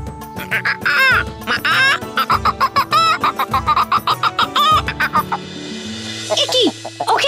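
A cartoon chicken clucks in a rapid, loud run of choppy clucks and squawks, close up, ending in a drawn-out cry.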